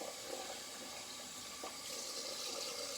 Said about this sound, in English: So just rinsing out the soap, the lather